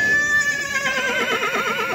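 A young male horse at a horse market in Shymkent lets out a loud, close, wavering neigh that trails off over about two seconds.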